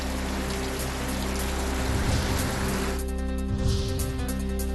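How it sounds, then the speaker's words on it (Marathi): Heavy rain pours steadily in Trimbakeshwar near Nashik, a dense, constant hiss of downpour on surfaces with no voices, close and unbroken throughout. "नाशिकच्या त्र्यंबकेश्वरमध्ये पहाटेपासूनच मुसळधार पाऊस।"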